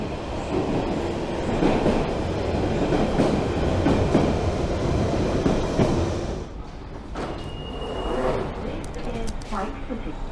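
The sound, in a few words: London Underground train arriving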